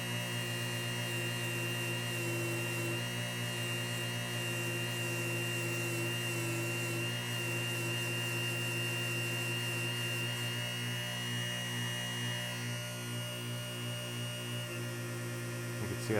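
A rotary bristle brush polishing the end piece of a baitcasting reel's spool tension adjustment knob, a steady loud motor whine with a constant hum running throughout, no talking.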